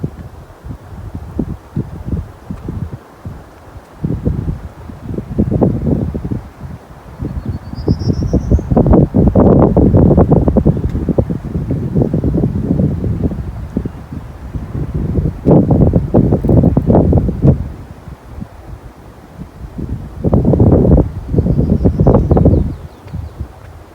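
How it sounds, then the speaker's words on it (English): Wind in Linville Gorge Wilderness comes through in strong, surging gusts that swell and fade. Leaves rustle through the gusts, with faint insect or bird chirps underneath. "So I've been recording wind sounds for about 3 hours"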